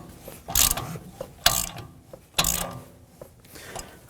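A tool is cranked to press a front wheel bearing into a 2014-2020 Acura MDX, giving three loud ratcheting bursts at a steady pace, each followed by softer clicks, close to the microphone.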